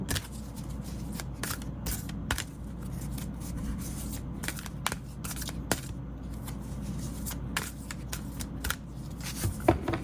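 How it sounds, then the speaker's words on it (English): An oracle card deck is shuffled by hand in a quiet room, giving a run of crisp riffling flutters and soft slaps that repeat irregularly, close and clear without any talk. "An easy deck to shuffle."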